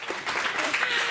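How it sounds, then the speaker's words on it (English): Brief burst of applause from an audience at a panel event on the green transition, crisp clapping rising quickly and holding, with a hint of voices beneath. "A round of applause to that."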